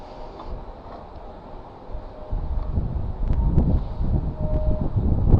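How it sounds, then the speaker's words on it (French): Gusty wind shakes and buffets a tent at a beehive apiary, rumbling against the microphone and building louder toward the end, with no voices. "Là on voit que le vent chahute un peu ma tente"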